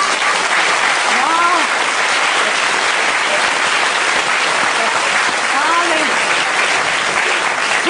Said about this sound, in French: Faut pas m'applaudir